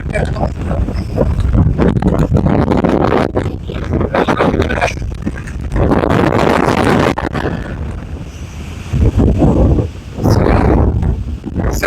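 Strong wind roars across a mountaintop and buffets the microphone in heavy gusts, rising and falling, with talking partly lost beneath it.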